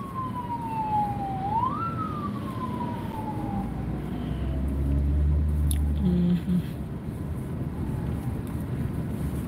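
A siren wails with a falling, sweeping tone over steady low road and wind rumble, moderately distant, fading out gradually.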